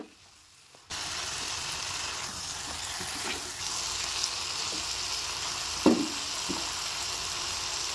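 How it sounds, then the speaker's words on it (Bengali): Okra frying with spice masala in a pan, a steady broadband sizzle that starts after a moment of quiet, with occasional soft scrapes and clinks of a spatula stirring. "বেশ খানিকক্ষণ মশলার সাথে ঢেঁড়সটাকে কষিয়ে নিচ্ছি।"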